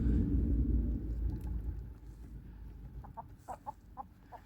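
Chickens of a chosen breed cluck in a handful of short, separate calls, fairly faint, following a low rumbling noise that fades away.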